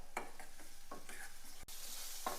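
Mango chutney being stirred in a pan on the stove, a series of close spatula scrapes and clacks over a soft sizzle, with one sharp knock just past the middle.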